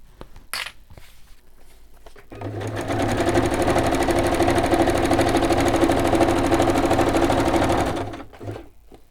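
A sewing machine stitches fabric in one steady, loud run that lasts about six seconds. Before it starts there is a brief handling noise, and the stitching ends with a quick tail-off.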